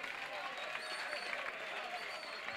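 Audience applause and cheering during a Portuguese-language rap battle event, a dense steady wash of clapping with crowd voices mixed in throughout, fairly even in loudness.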